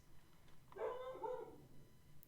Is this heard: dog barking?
yes